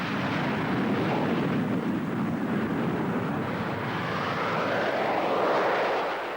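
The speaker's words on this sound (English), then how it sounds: "the French Air Force aerobatic team, perform in the Alpha jet at speeds near the sound barrier" Alpha Jet aircraft of the French Air Force's Patrouille de France aerobatic team fly past at high speed, a loud, steady, broad jet roar with a slowly sweeping pitch, no talk.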